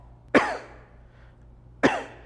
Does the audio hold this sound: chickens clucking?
no